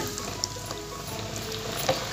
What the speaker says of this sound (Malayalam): ഇനി നമുക്ക് അതുപോലെ തന്നെ കുറച്ച് നെൽക്കടലയും വറുത്തെടുക്കാം.